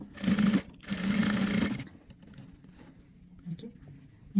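A sewing machine stitching along the edge of stacked fabric squares runs in two loud, steady whirring bursts close by, then stops, leaving quiet handling noises.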